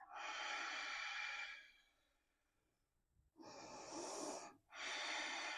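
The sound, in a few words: breathing during yoga practice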